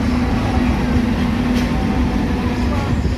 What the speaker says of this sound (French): on est dans le train de Giswil à Interlaken et on va quitter la gare de Giswil pour attaquer directement la crémaillère